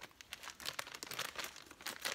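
Crinkly plastic packaging rustles and crackles in quick bursts, close by and fairly soft, with no talking.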